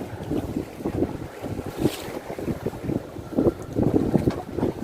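Strong wind buffets the microphone aboard a fishing boat at sea in rough conditions with waves around two meters, a steady rushing roar with gusting swells and water noise throughout.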